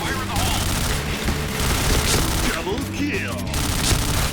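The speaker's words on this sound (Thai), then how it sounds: "ใครเล่นระเบิด" Explosions and bursts of gunfire in the online shooter Point Blank during a grenade-heavy match, loud and continuous for the whole stretch, with rumbling booms and crackling shots that never stop.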